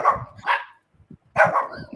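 Pet dog Twinkie barks at someone passing by an open window, a few sharp, loud barks in two bursts with a short quiet gap between them.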